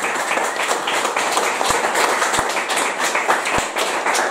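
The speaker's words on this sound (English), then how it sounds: "A huge round of applause." A room at a bar event breaks into a sustained round of applause, a dense steady patter of many hands clapping together at moderate volume, with no talk over it.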